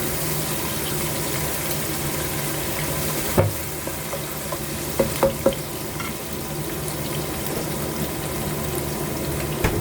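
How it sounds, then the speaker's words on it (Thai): Fermented soybeans being stir-fried with grouper and bitter melon in a hot pan, giving a continuous close sizzle with a few brief clinks of a utensil partway through. "ใส่เต้าซี่ลงไปหนึ่งช้อน"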